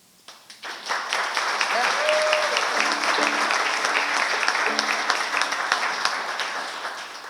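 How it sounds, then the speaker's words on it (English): An acoustic concert audience at an opera house breaks into applause, rising quickly to a full, sustained clatter of clapping that tapers near the end, with a voice and a few brief tones beneath. "You should give yourself a round of applause more often."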